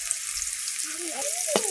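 Red lentils fry in a pan, giving a short, steady sizzle with a brief clink partway through, while a voice can be heard faintly over the cooking.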